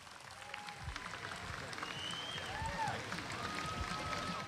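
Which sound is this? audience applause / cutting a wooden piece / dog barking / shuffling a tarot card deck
audience applause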